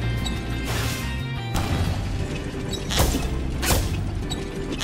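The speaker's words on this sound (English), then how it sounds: "The sound the balloons make when they pop is, like, very upsetting for some reason." Balloons popping in Spyro 2: Ripto's Rage Reignited, a few sharp bursts standing out over a busy, continuous game background.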